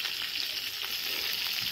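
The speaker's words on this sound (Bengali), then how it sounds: "নুন আর হলুদ দিয়ে একটু ভালো করে ভেজে নেবো," Cauliflower fries in oil with salt and turmeric, giving a dense, even, close-up sizzle that holds steady throughout, with no speech.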